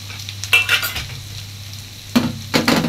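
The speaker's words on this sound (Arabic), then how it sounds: "وهشوح بقى الخضار بتاعي" Yellow, red and green bell peppers and sliced carrots sautéing in a pan, with a low sizzle broken by three short bursts of stirring and scraping, close and without talk.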